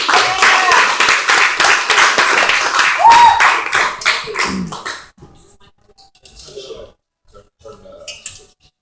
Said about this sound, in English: let's give another round of applause for him